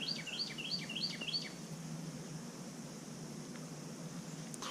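Birds chirp outdoors in a quick run of repeated high calls for the first second and a half, then fade to faint scattered tweets over a steady outdoor hiss.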